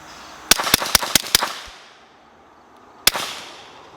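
A suppressed Lipseys Retro Glock P80 pistol fires a quick string of six sharp, close cracks. After a short pause comes one more shot, with no talking.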